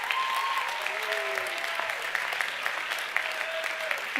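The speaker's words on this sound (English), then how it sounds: "give a rounding round of applause to the faculty and the staff that supported you on your journey" Graduates at a commencement ceremony applaud the faculty and staff, a sustained, moderately distant wash of clapping with faint tonal sounds and voices drifting underneath.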